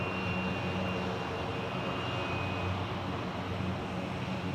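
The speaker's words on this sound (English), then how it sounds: "That Logan Air is going to go up like a rocket ship" Logan Air airplane engines on the runway at Newcastle International Airport, a broad steady roar with a thin high whine, sustained and fairly distant with no talking.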